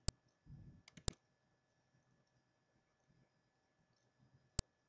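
Sharp, isolated mouse clicks in point-of-sale restaurant software, a few spaced taps with a brief soft rustle between them, close and otherwise quiet.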